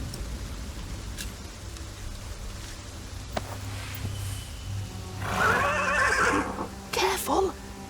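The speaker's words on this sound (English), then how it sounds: "Don't you dare touch William's horse!" A horse whinnies sharply twice, close by, over a low rumbling background with faint voices.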